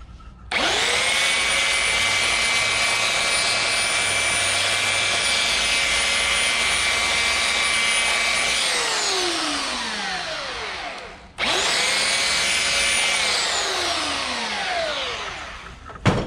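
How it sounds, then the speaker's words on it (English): A power tool whines loudly and steadily while sanding down a skull cherry bomb held in a vise. It runs for about eight seconds, spins down, then starts up again for a second long burst. "I just figured I'd sand it down and get all the wording off of it."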